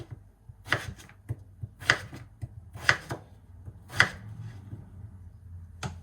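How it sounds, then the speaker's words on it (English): A knife chops raw potatoes into French fry strips on a cutting board, with a few sharp, evenly spaced thuds spread across the moment and a quiet background between strokes. No one speaks. "So you have to cut potatoes just like French fries."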